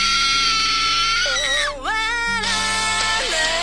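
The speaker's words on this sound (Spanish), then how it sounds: "a continuación vamos a ponerles el grito para que sepan de qué estamos hablando" A shrill, sustained scream from a horror anime rises and wavers in pitch over a steady musical or synthetic background, dipping briefly before resuming at full loudness.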